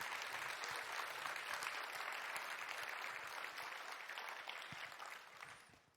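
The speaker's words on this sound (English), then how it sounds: "Give them a round of applause, yeah." An audience at a Quakecon 2015 gaming panel gives sustained applause, a dense wash of clapping from a large hall that holds steady and then tapers off at the end.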